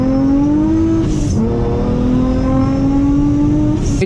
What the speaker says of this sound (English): it just sounds like the blow off valve is freaking loud